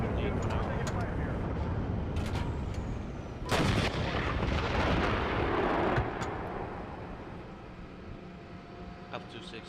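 Artillery booms and gunfire in a video game tank battle, a steady roar of combat with a heavier blast in the middle, under radio-style voices.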